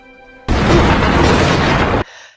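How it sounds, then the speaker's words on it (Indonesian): A single loud, rumbling thunder crash during a big storm starts abruptly, fills about a second and a half, then cuts off sharply. "dikagetkan dengan suara petir. Terjadi badai besar di sana"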